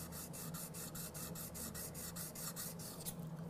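Steel scraper edge rubbed back and forth on a sharpening stone in a woodworking shop, a steady rasping stroke repeated about a dozen times in quick even rhythm, close and clear with no talk.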